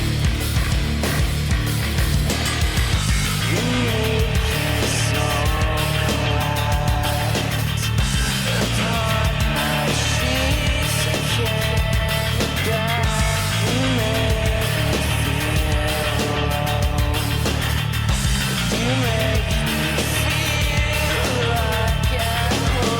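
A track plays loud and full throughout, a steady mix of bass, drums and melodic lines with no talking over it.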